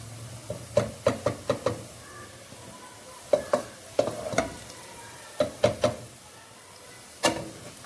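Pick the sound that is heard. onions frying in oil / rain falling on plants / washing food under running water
onions frying in oil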